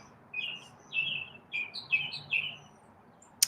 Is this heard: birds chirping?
yes